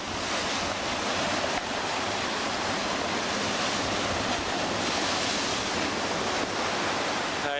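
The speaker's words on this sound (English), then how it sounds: "Every so often a massive wave comes down here and smashes these rocks." Loud surf roars continuously as waves crash and churn against rocks on the shore, a dense wash of water noise with wind buffeting.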